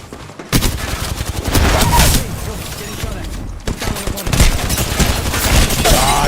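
Rapid bursts of gunfire in Apex Legends, a video game: repeated sharp volleys and automatic fire close by, running almost continuously with brief gaps, under a player's talk.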